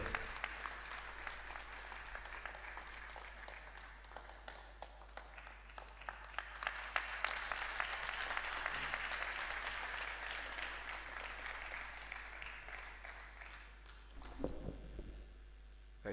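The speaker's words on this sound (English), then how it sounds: "A round of applause for him as he steps up." Sustained audience applause at a university convocation lecture in Lagos, steady many-handed clapping from a large crowd heard from a distance, fairly faint and swelling midway before tapering off.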